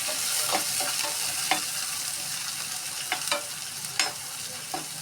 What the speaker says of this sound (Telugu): ఇప్పుడు ప్యాన్ పెట్టుకొని ఆయిల్ పోసుకొని ఇందులో 2 ఉల్లిపాయల ముక్కలు పచ్చిమిరకాయలు వేసి వేయించుకోవాలి